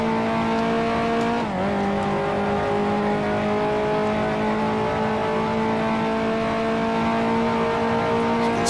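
A 1955 Formula One race car in Grand Prix Legends, on the Dutch Grand Prix circuit, roars at steady high revs throughout, loud and close, with a brief dip in pitch as the driver shifts.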